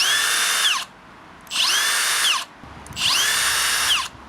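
Milwaukee M18 cordless router spins up three times, each run a loud, steady high whine that stops within a fraction of a second as the electric brake drops the pitch sharply, with short quiet gaps between runs.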